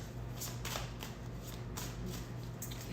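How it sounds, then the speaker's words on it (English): Tarot cards shuffled by hand, a steady run of crisp riffling bursts repeating every half second or so, close and fairly loud with a low background hum and no talking. "It's so nice to be able to actually shuffle my cards again."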